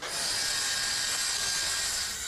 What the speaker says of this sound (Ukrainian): В одному з житлових районів чутно звуки болгарки та спецтехніки.